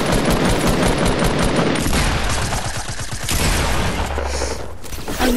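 Sustained automatic video-game gunfire, a long rattling stream of rapid shots that thins out toward the end, loud and close with almost no talking.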